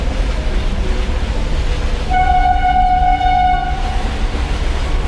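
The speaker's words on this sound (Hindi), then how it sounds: "कौन सी ट्रेन आ रही है भाई?" A train rumbles steadily nearby at the Rail Museum in Delhi while its horn blasts one long, loud tone midway through, then fades back into the rolling noise.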